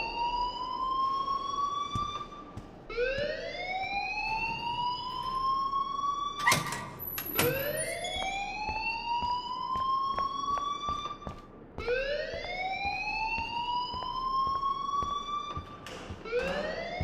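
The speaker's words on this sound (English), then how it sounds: "please turn off that alarm since that's your job." In the video game Life Is Strange, a school alarm wails in repeated rising electronic sweeps, each swelling and cycling roughly every four seconds, loud and continuous with faint clicks between.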